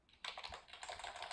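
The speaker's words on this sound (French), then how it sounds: "excusez-moi pour le bruit du clavier" Clicking computer keyboard typing comes as a quick burst of close, crisp keystrokes after a short pause, fairly quiet and with no voice.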